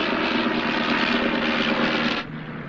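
A propeller aeroplane droning steadily through a gentle training turn, a loud, even engine hum that drops off sharply near the end, with no voices.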